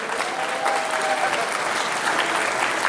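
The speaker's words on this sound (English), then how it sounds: "So everybody, big round of applause for the Boat." A crowd at a weekend event breaks into applause, a dense, steady burst of clapping at moderate loudness filling the short stretch without pause.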